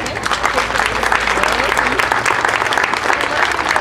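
A loud, continuous round of audience applause at a municipal market remodeling event, dense clapping from a large crowd held steady from start to finish.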